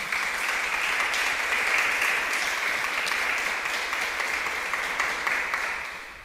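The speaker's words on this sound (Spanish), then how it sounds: "Dele un aplauso al Señor." A church congregation applauds steadily for several seconds, a dense, sustained wash of clapping that fades slightly at the end, with no speech over it.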